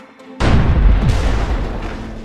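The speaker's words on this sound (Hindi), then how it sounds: "ज्वालामुखी के फटने से प्रशांत महासागर में इतना जोर का विस्फोट हुआ" Underwater volcanic eruption in the Pacific near Tonga in January 2022, a sudden massive boom that hits after a quiet moment and rolls on as a heavy, deep, sustained rumble.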